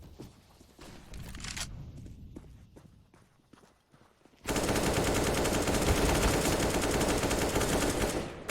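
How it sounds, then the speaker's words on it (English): Gunfire in a CS:GO LAN tournament match: scattered shots and footsteps early on, then a loud, continuous automatic spray that runs without a break for roughly four seconds. "Spray transfer there from Kaplan"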